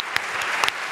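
Brief burst of audience applause on a French talk-show set, dense clapping with a few sharper claps standing out, steady and fairly close.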